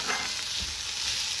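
A spiced mixture with white sesame seeds sizzles as it is sautéed in a pan, giving a steady, close, hissing crackle throughout the brief moment.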